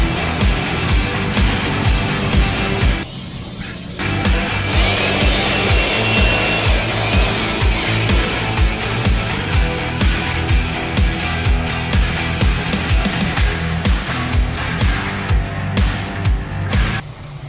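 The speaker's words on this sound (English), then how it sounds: "the auto scrubber got paused too many times, so the battery is going low" Battery-powered floor auto scrubber running across a grocery store floor, a loud, steady mechanical drone with rhythmic brushing and scrubbing pulses, briefly dropping for a moment before resuming continuously.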